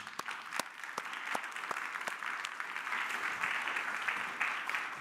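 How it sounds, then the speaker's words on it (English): A lecture audience claps steadily, a dense patter of applause that builds slightly and carries on for several seconds. "So please join me with applause"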